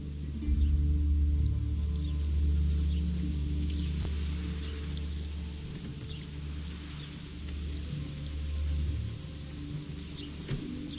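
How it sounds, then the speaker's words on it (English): Steady rain falls across an open outdoor scene in the video game The Witcher 3, a broad continuous hiss with scattered drips and a low rumble underneath, fairly loud and unbroken, with no talking. "Looked like it would rain, and here it is."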